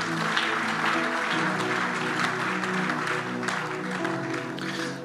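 Sustained applause from a church congregation, dense and steady throughout, loud and close with a few scattered voices mixed in.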